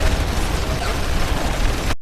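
Gunmen in a film scene open fire on a single figure, a dense, continuous burst of loud gunfire and explosive pops with no clear gaps, ending abruptly.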